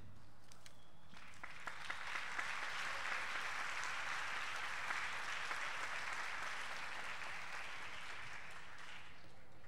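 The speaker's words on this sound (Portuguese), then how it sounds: "obrigado pelos aplausos" An audience applauds a tarot reader being called to the stage, producing steady, even clapping that holds for nearly ten seconds at a moderate, somewhat distant level.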